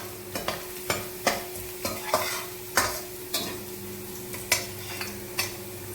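Cut ginger fries in oil with a soft steady sizzle, broken by a string of about a dozen regular spoon taps and scrapes against the pan, close by, with no speech.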